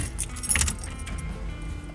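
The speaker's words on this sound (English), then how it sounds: "go in the vehicle itself and turn the key" Key turned to the on position in the ignition of a classic restomod car, a brief metallic jangle and click of the keys close by over a low, steady hum.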